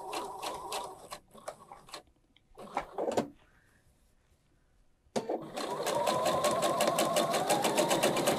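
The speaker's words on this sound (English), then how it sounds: "I'm going to sew all the way around" A sewing machine with a quarter-inch foot stitches around a pot holder binding in bursts, pausing briefly, then running steadily and loud for several seconds near the mic.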